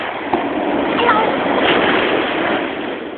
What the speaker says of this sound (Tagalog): Ayan na, ang alon.